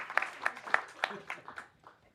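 Sparse applause from a small audience at a mayoral forum in New Orleans, a handful of distinct claps at a steady rhythm that thin out and fade within about two seconds, fairly faint.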